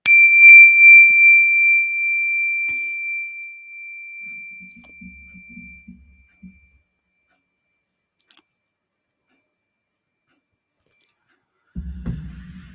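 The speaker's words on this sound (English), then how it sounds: "when you detect the vibration of my bell, allow your eyelids to float open" A single bell strike opens, its clear pure ring sustaining and slowly decaying for several seconds in a quiet room during a guided relaxation, followed by near silence.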